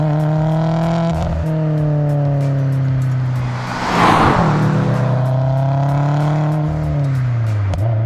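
A modified Subaru STI making 500 wheel horsepower drives past close by, its loud engine note climbing and falling with a steady harmonic drone and a brief surge of rushing noise as it passes.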